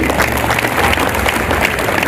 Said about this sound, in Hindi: अध्यापकों के लिए तालियां बजाइए।